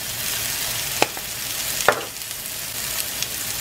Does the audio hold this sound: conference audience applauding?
no